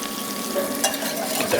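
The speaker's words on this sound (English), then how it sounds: "Sauce right into the pan." Sauce hitting a hot pan with chicken, setting off a close, steady sizzle with faint stirring, no voices.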